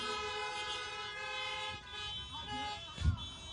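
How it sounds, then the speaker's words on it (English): Car horns toot and honk in a crowd's response at an outdoor India Day 2021 celebration, a steady layered sustained honking with a louder burst near the end. "Please honk."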